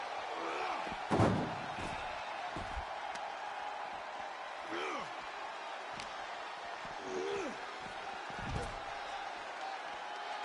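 Ambulance doors slam shut in the WWE 2K25 wrestling game, one loud heavy bang followed by a few softer thuds and knocks spread out over a constant crowd roar in the arena.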